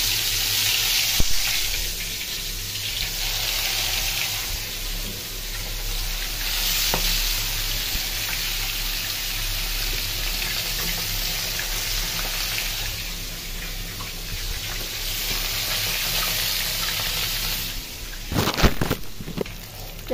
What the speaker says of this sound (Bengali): মচমচে ভেজে নিলাম মাছটাকে